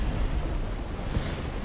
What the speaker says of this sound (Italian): Forse la tempesta interferisce con i circuiti?